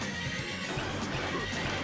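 A horse whinnies in the Sunset Riders arcade game, a loud, dense neigh with hoof clatter, filling the short moment over busy game sound.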